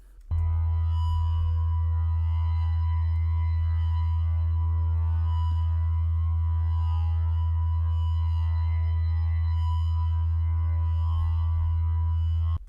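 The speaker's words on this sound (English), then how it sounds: "The next section is the drone." A sustained synth drone from a Serum sample pack, deep and steady with a bright overtone hum, holding one pitch throughout with a faint wavering texture on top.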